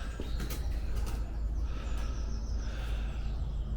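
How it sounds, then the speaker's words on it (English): Pigeons cooing in an abandoned chalk quarry, soft repeated low coos with a few faint chirps over a steady low rumble of wind or ambience. "Loads of pigeons."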